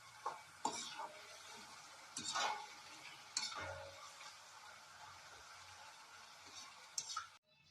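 Potato chips frying in a pan in a home kitchen, a steady soft sizzle broken by several sharp scraping stirs and clinks of a utensil against the pan.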